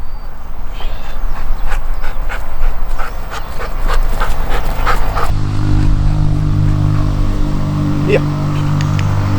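A working dog pants steadily during a training session at a dog training academy in Kenya. The breathing is rapid and close, with a few faint whimpers and some background noise.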